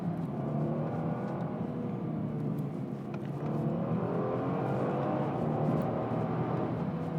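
A 2021 Kia Stinger GT with its 3.3-liter V6 and all-wheel drive cruises along with a steady, full engine hum and road rumble that holds level and continuous throughout, with no talking.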